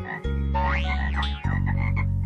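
Cartoon frogs croak loudly and continuously in a deep, rhythmic chorus, with a brief swooping tone over the top and a denser croaking stretch toward the end.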